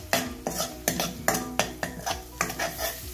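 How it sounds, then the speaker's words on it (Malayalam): Spoon stirring turmeric and Kashmiri chilli powder in a pan while cooking, a rhythmic series of sharp metallic scrapes and clinks, about eight strokes, close and loud. "നന്നായിട്ടൊന്ന് ഇളക്കി കൊടുക്കാം."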